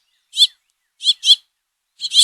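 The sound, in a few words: house finch fledglings and male calling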